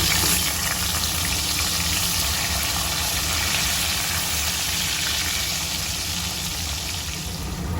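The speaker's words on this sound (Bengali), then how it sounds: "উচ্ছেটা ভেজে নিয়েছি" Bitter gourd fries in hot oil, a continuous broad sizzle with a low rumbling undertone, steady and close throughout with no talking.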